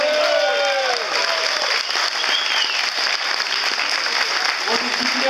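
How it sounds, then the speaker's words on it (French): A crowd at an outdoor gathering in Côtes-d'Armor, Brittany, applauds the German crews with continuous loud clapping while voices call out over it. "je crois qu'il faut les applaudir très très fort"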